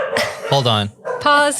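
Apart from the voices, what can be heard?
dogs barking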